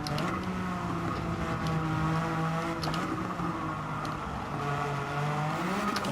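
In a racing video game, the Suzuki Escudo Pikes Peak racer's engine revs hard and continuously, its pitch rising and falling with shifts and brief dips, steady and loud with no talk.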